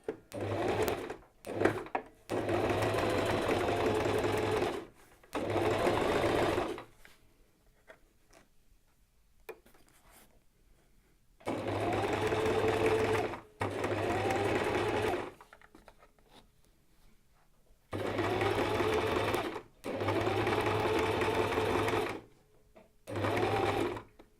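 A sewing machine stitches fabric at a 1 cm seam allowance for a beginner's catch-all tray, running in three long steady bursts with quiet pauses between, close and loud, with a few short taps at the start.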